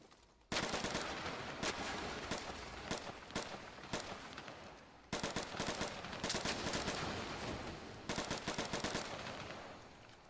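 STG-44 assault rifle firing in a video game, sustained rapid automatic bursts with brief pauses between strings, loud and close, alone without talk.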